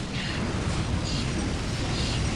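Valkyrie explosions in the real-time strategy game Dawn of War, a dense continuous roar of blasts and battle noise with rumbling booms layered throughout, loud and without clear speech.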